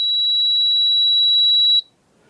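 A NAVAC NRC62i smart refrigerant charging machine emits one steady, loud electronic beep that holds for nearly two seconds and then cuts off, leaving near silence.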